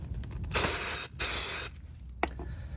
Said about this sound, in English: first we're going to try the Honda spray cleaner and polish